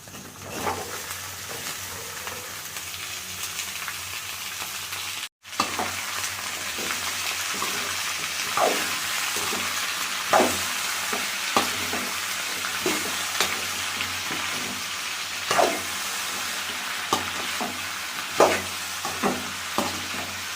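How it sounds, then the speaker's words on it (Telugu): Ivy gourd and onions frying in a pan with a steady, close sizzle, broken by repeated scraping and stirring clatters and a brief dropout just after the start. "ఆనియన్స్ బాగా వేగిండాయి కదా, మనం ఇప్పుడు దొండకాయ వేసుకుందాం"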